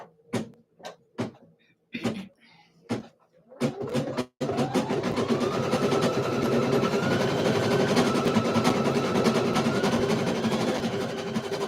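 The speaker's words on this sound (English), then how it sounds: "Okay, I'm going to start stitching." An embroidery machine stitching onesies starts after a few separate clicks and knocks, then runs loud and steady for the rest of the stretch with a continuous rapid needle chatter.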